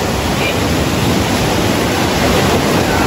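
Strong sea waves crash and roar in a dense, continuous wash of surf, loud and close, with no pauses.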